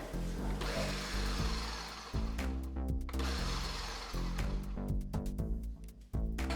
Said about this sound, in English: I'm gonna take my zest and my sugar, and I'm gonna place that into a blender, and I'm gonna pulse that a couple times